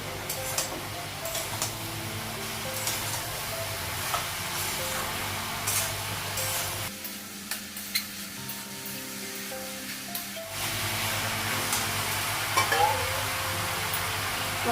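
Ginger paste frying in hot oil in a pan on a gas stove in a home kitchen gives a steady, close sizzle with light stirring scrapes. The sizzle dips quieter for a few seconds midway, then returns at full strength.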